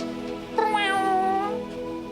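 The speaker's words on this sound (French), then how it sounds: "T'entends un petit miaou" A single drawn-out cat meow, close and clear, rising and then gently falling over about a second, with a faint steady hum behind it and no talking.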